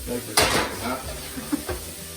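Onions sweating in a pan make a soft, steady sizzle, with a utensil stirring and scraping and a few light clinks of cookware nearby.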